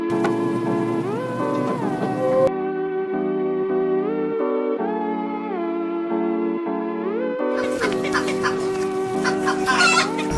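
Fighting roosters kept near a cockfighting arena, crowing in long drawn-out calls that overlap one another, loud and close, followed by a burst of clucking and scratchy noise toward the end.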